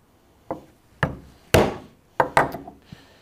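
A hand punch is struck into a leather tapadero five or six times. The hits are sharp, close, woody thwacks with short gaps between them and no speech.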